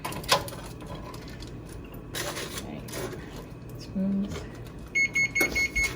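An oven beeps to signal it has finished preheating, a string of short evenly spaced electronic tones near the end, following kitchen clatter and a single earlier beep.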